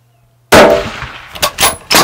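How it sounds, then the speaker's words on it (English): A rifle shot fired while hunting axis deer in Texas bursts loud and close out of silence, then rings and echoes with a few more sharp knocks as it fades. "That second shot wasn't a good shot, though."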